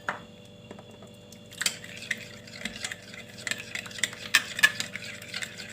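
A spoon stirs a hotel-style salad dressed with vinegar in a bowl, making soft, wet squishing and clinking strokes that grow busier in the second half, close and alone without talk.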